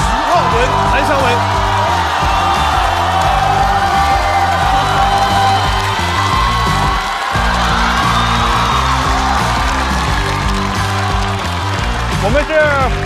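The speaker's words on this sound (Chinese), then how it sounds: "让我们掌声欢迎4大天王队" A studio audience at a comedy show cheers and whoops to welcome a team onstage, with loud music playing throughout and a steady crowd roar.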